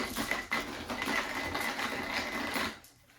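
Manual crank coffee grinder set to medium grinding beans, a steady close rasping churn with fast rhythmic grinding pulses that runs for nearly three seconds before tapering off.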